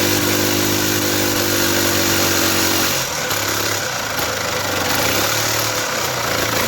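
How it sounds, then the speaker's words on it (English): Motorcycle engine revving hard during a burnout, a loud, steady, close engine roar that shifts pitch partway through, with no talk over it. "Burnout!"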